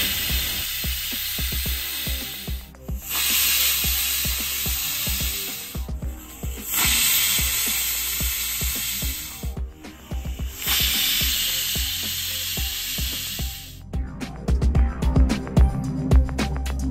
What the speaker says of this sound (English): Add weight and cook on a low flame for 4 whistles.